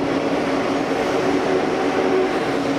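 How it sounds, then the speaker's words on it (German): An ICE train at Berlin's Bahnhof Zoo station fills the scene with a loud, steady rail rumble and hum, unbroken and close by. "darf sich ein ICE-Zug am Bahnhof Zoo auch so verhalten"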